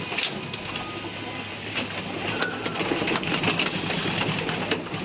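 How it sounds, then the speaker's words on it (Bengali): Racing pigeons in a pigeon room fill the space with soft, overlapping coos and low murmuring, nearby and steady, with faint wing and movement noises in the background. "কবুতর রুমে ঢুকলো"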